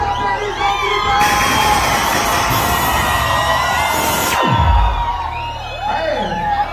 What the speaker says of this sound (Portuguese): Rapaziada de Curitiba, só quem tá feliz vai gritar!